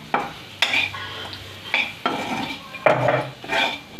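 Chili powder being stirred into food in a pan, a spoon scraping and clinking against the metal in several separate bursts of stirring with faint sizzling underneath, close and alone.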